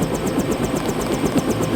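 Helicopter in the Deus Ex video game: a steady, droning rotor and engine roar with a faint rhythmic chop, close and loud, running through the whole moment without talk.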